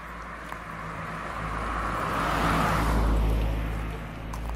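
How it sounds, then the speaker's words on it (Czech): A car on a village road in Kateřinice drives closer, its engine and tyre roar swelling steadily to a broad peak mid-clip before easing slightly, loud and near, with no talk over it. "Bacha, šefe, auto."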